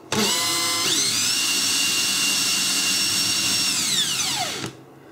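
A small windmill motor, wired to an oscilloscope, is spun up by hand into a loud, steady high-pitched electrical whine that holds for about four seconds, then winds down quickly and stops.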